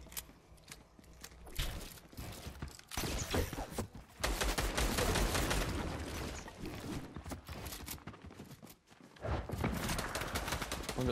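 Rapid bursts of gunfire from a battle royale video game tournament, dense volleys of shots crackling continuously over several seconds, loud and close with brief pauses between flurries.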